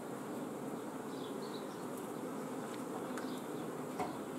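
Honey bees hum at a hive, a dense, steady buzzing drone close by with a few individual bees passing louder near the microphone.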